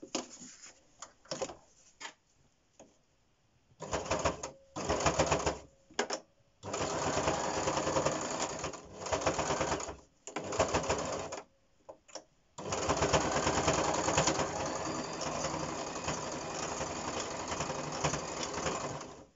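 A domestic sewing machine stitching round elastic onto a fabric face mask, running in short bursts with pauses, then a longer continuous run, close and fairly quiet.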